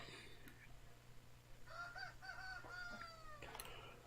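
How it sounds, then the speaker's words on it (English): A rooster crows faintly in the video game Assassin's Creed Odyssey. A single wavering cock-a-doodle-doo sits over a low steady hum and background ambience. "Cock-a-doodle-doo"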